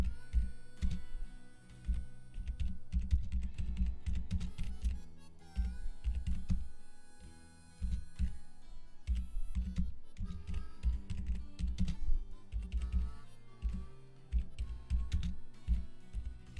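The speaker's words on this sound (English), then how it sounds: "I apologize for the, keyboard sounds you might be hearing" Typing on a computer keyboard during a Pokemon Violet gaming stream: fast bursts of close clicky keystrokes separated by short pauses, over a low electrical hum, with no speech.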